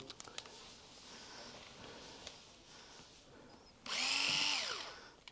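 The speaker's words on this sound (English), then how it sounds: "We'll pull the 4 screws out that hold the housing on here." Power drill backing out screws from the housing of a Pulse ZR II electric scooter, a single loud, close whirring burst lasting about a second and a half, rising and falling in pitch after quiet handling noises.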